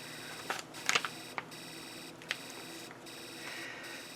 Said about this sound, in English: we can hear the alarm IC's output through our whistle chip every time it pulses on and off